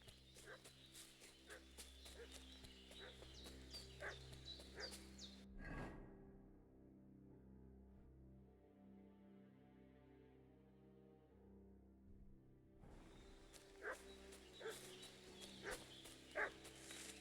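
A dog barks and whimpers in Kingdom Come: Deliverance 2, repeated yips over steady game music and ambience, cutting out for several seconds before returning with more barking.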